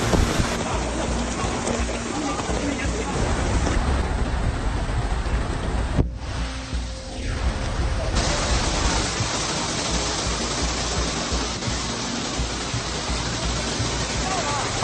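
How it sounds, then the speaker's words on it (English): Record-breaking heavy rain pours in a dense, constant roar during flooding in Danjiangkou, Hubei Province, China, with a brief dip in the middle before the downpour resumes at full strength. "Some areas in Hubei province have experienced record-breaking heavy rains"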